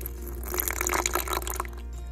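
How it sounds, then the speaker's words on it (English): Water poured into a Vitamix blender with soaked ingredients, yeast and lemon juice, a short steady splashing trickle heard close up over a low mains hum. "A little touch of water."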